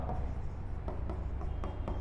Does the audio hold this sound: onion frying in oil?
no